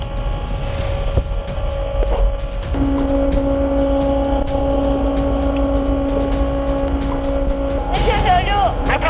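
K1A2 main battle tank engine running with a steady low rumble and a sustained tonal whine throughout, loud and close, with brief rising squeals near the end.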